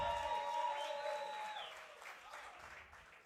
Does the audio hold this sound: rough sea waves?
no